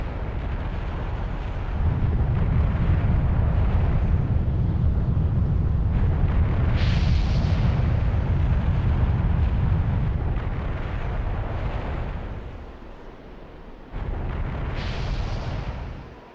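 A rock blown apart in a Zelda game inside Dragon Roost Cavern, a loud, sustained roaring blast with rumbling debris that fades out, then a second burst near the end.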